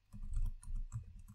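Quick keystrokes on a computer keyboard as code is typed, a short soft burst of clicking close to the mic with no talk.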